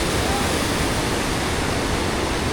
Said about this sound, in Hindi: बारिश की वजह से नदी भी काफ़ी ज़ोरों पे है